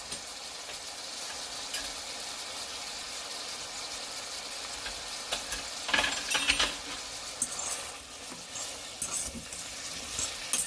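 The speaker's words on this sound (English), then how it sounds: "It's just a light saute." Vegetables for a Jamaican escovitch fish topping get a light sauté in a pan, giving a faint, steady sizzle with occasional stirring clatters and scrapes and no talk.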